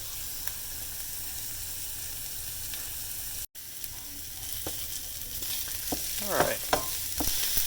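Onions and peppers frying in a pan for a Cajun-style dish, a constant close sizzle with a few soft stirring scrapes, a brief spoken word near the start.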